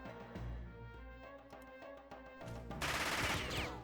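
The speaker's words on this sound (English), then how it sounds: "we also hear gunshots." Gunfire in Jagged Alliance 2 1.13: a dense burst of game shots crackles over a busy layered soundscape, with a louder, brighter volley near the end.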